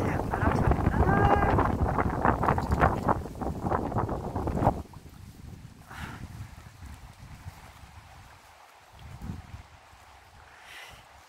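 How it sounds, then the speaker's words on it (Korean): Strong wind gusting across a hillside trail around the Bongam reservoir in Masan, heard as low, rumbling buffeting on the microphone after a voice speaks briefly at the start. "바람 소리 한번 보세요. 바람 소리."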